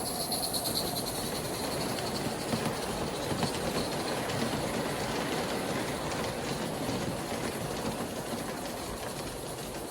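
A steady, continuous rumble of an Aristo-Craft live steam USRA 0-6-0 model locomotive running, with rhythmic chuffing and hiss, holding a constant level throughout with no voices.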